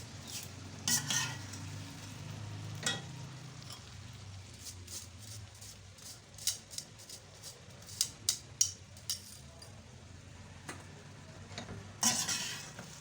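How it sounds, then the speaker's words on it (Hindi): Okra and onion going into a tomato masala in a pan, with a soft sizzle under repeated spoon stirs and sharp metallic clinks against the pan, quiet overall with scattered louder scrapes. "अब स्टेज पे आके हम इसको भिंडी और प्याज को इसमें डाल देंगे।"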